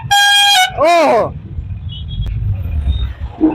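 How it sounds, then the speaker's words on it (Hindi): Vehicle horns blaring in a Patna traffic jam: two long, loud, close honks, the second wavering in pitch, followed by a rumbling idle of engines and traffic noise with a brief toot at the end. "कितना हॉर्न बजा है ना"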